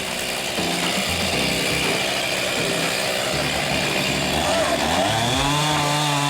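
A chainsaw runs loud and close while felling a tree, its engine steady and then shifting pitch near the end as it cuts, with a voice speaking over it.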